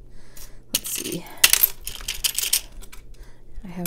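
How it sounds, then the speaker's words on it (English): Assorted small metal keys being handled for junk journal spine jewelry, bright clinks and jingles in quick clusters, close up with no talk. "I have all these random keys."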